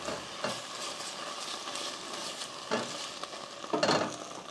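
Onions and Thai curry paste with coconut milk cook down in a pan, giving a soft continuous sizzle broken by a few louder scraping stirs, close and fairly quiet.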